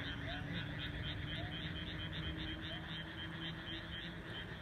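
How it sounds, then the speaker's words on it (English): Steady chorus of frogs croaking in repeated pulses, fairly close, with a constant background hum underneath and no talking. "You can hear the sound of the frogs guys."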